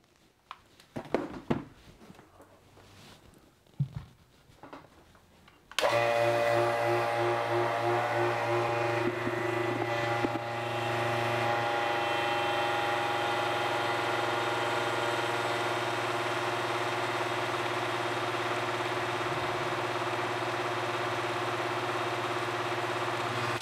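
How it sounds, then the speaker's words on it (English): A vacuum pump degassing plaster mix starts abruptly after some handling clatter, then runs as a loud, steady mechanical hum with a faint hiss, its tone dropping slightly after a few seconds. "Let's vacuum it one more time."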